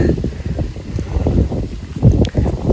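Wind gusts outdoors, buffeting the microphone with a low, uneven rumble that swells and fades in close, loud waves.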